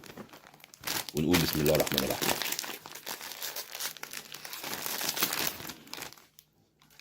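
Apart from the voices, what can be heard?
plastic snack bag crinkling as it is opened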